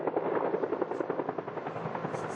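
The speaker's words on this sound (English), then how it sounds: "Overhead, several water-bombing choppers were attempting to douse the flames." Several water-bombing helicopters flying overhead at a bushfire near homes in rugged terrain, their rotors making a steady, fast chop that holds loud throughout with no voices.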